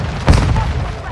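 A single close, loud grenade explosion bursts in the video game Call of Duty: Modern Warfare II, its deep boom rolling briefly with voices over it.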